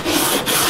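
Close, loud hand sanding of an electric guitar body's edges, a continuous rough scratching of abrasive paper on wood with a short dip midway through the strokes.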